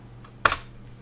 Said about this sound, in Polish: I wciskam Enter.